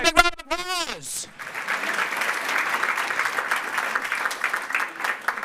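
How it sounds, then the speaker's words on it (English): Applause rises from a conference audience at the FLOW Summit 2022 ecommerce awards as winner Mick Lewis is called up, following a brief voice at the start, then sustained clapping with a few louder claps and cheers. "Give him a big round of applause"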